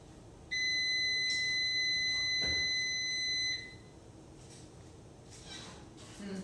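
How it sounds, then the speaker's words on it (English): Kitchen timer for baking bread going off: one steady, loud electronic beep tone lasting about three seconds, then stopping, followed by quiet room background. "The timer's about to go off, so I'm gonna grab it out."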